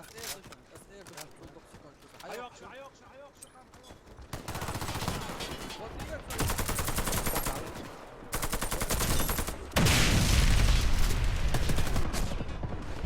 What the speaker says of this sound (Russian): Бомба взорвана.